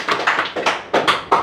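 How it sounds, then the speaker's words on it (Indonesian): A small group of people, such as detainees at a police station service, claps hands in a quick uneven rhythm, about seven loud, close, sharp claps in under two seconds with no talking. "Tepuk tangan dua buat dia."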